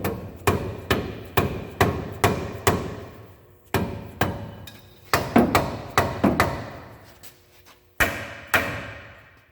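Dead blow hammer striking a seized front axle knuckle on an M35A2 truck, heavy repeated thuds in quick bursts of five or six blows, each ringing briefly, separated by short pauses; loud and close.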